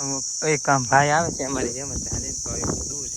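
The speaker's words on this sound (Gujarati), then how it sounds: "તમરા એનો અવાજ આવે છે." Crickets on a rural village road keep up a loud, continuous high-pitched chirring that runs steadily under someone talking close by.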